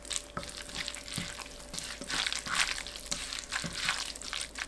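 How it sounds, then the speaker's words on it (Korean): Radish being tossed and mixed by hand in a bowl with a seasoning sauce of minced garlic, sugar, apple vinegar, oligosaccharide syrup, sesame oil and gochujang, giving soft, wet squelching and sticky clicks, close and quiet. "양념을 섞어줍니다. 무와 버무려주세요."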